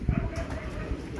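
Pigeon cooing inside a loft, low soft murmuring coos beneath a steady noisy room background, short and close, with faint other sounds mixed in.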